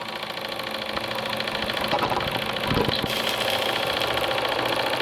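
Small live steam engine of the model steamboat San Julian running steadily, a fast, even mechanical chuffing and knocking rhythm heard up close, fairly loud and continuous with no talking.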